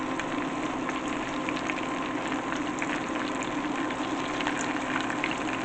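Cauliflower pieces fry in oil in a pan, giving a steady, dense sizzle that holds at an even level throughout with no one speaking.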